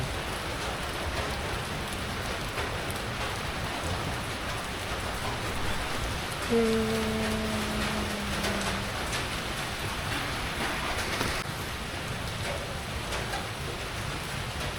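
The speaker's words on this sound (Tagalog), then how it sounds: "It's raining." Steady, heavy rain pours down continuously, a dense hiss of drops hitting surfaces, with a brief faint tone partway through.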